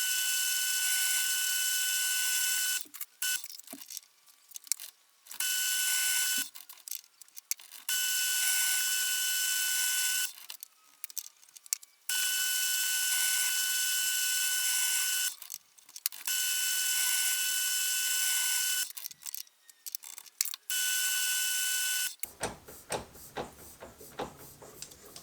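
A metal lathe machines threads on an oil filter bracket, a steady high whine broken by repeated stops and restarts, with clicking and handling noises between passes and a rattling mechanical burst at the end.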